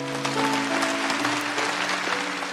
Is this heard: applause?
yes